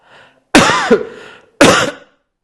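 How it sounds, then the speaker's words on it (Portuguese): Two harsh, close coughs separated by a brief pause, the first rougher and drawn out like clearing the throat. "Desculpem a minha tosse"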